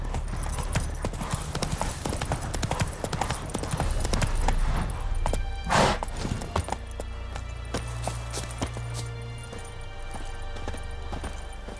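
Horse hooves galloping in The Witcher 3 video game: rapid, rhythmic clip-clop beats close up, steady throughout with a brief louder swell midway and a faint snort or whinny, alone without talk.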